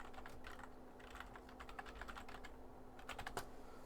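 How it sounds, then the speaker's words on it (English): Rapid typing on a computer keyboard during an art stream, quiet, close clicks in uneven bursts with a steady hum beneath. "So I'm typing right now."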